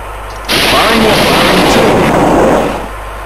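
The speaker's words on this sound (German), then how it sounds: "ein Torpedo, der gerade explodiert" A single loud, broad torpedo explosion in the submarine video game Silent Hunter bursts in and roars for about two seconds, then trails off into a low rumble.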